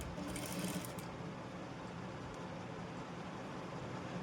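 A sewing machine runs steadily, stitching a press stitch along the back side of a soft, slippery blouse piece, a continuous low whirring hum at moderate distance with no voices.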